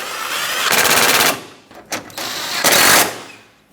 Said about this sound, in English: Once you're happy with its position, snug them both up.